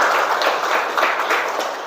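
Schoolchildren in a classroom clap together in a steady, dense burst that sounds close and fairly loud and lasts under two seconds.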